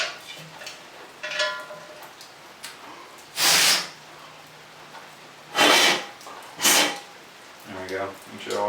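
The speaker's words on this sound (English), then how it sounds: "you might want to blow out the tank" Short bursts of compressed air blown into a motorcycle engine-kit gas tank, four or five sharp hissing blasts of about a second each, separated by quieter handling noise and faint room sound.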